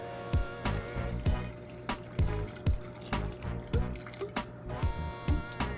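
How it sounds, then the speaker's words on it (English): Water running and splashing into a pot of simmering oxtails in a home kitchen, a series of distinct drips and plops spaced irregularly over a low steady wash of liquid, close and fairly quiet. "so I'm just going to add some more water"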